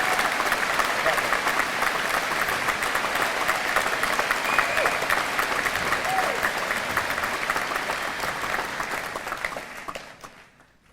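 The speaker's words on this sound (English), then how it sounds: "Let's give Greg a well-deserved round of applause as he begins retirement right now." Steady applause from a large audience at a high school graduation ceremony fills the space, loud and continuous before fading out at the end.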